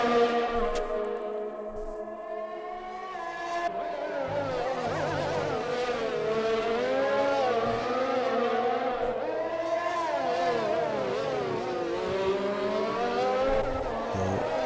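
Formula racing cars on the Azerbaijan Grand Prix circuit in an Xbox racing game scream past with high, rising and falling engine whines, several cars overlapping continuously at close range with no voices over them.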